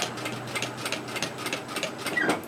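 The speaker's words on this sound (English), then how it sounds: "we want to sew a line parallel with the top of our bag" Sewing machine stitching a straight seam along the top edge of a lined fabric shopping tote bag, a steady close rapid chatter of needle strokes throughout.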